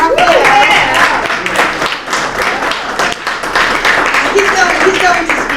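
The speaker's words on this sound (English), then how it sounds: "Everybody clap for Raphael" Audience clapping for a man at an Italian heritage sister cities event, a loud, fairly close patter of hands with some voices mixed in throughout.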